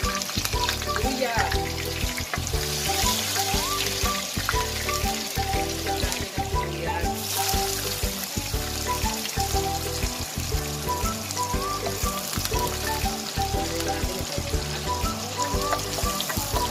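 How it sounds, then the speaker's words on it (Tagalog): Ginger and other aromatics sauté in a pan for tochong bangus, a milkfish dish, with a loud, continuous, close sizzle and a repeating rhythmic clatter running through it. "Gigisa na natin yung mga sangkap o ingredients."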